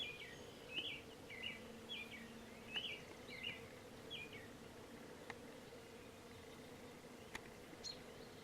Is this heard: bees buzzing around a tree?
yes